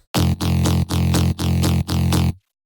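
A thick Xfer Serum bass preset with its FM macro at maximum plays four punchy, evenly spaced sustained notes, loud and gritty, then stops.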